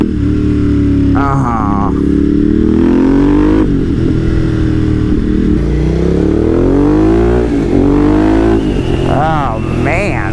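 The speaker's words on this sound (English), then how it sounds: "That engine sound when I downshift and rev match that throttle." Ducati Monster motorcycle engine revving hard as the rider downshifts and rev-matches the throttle, rising and falling whines repeating through the stretch, loud and close, with a brief exclamation from the rider over it.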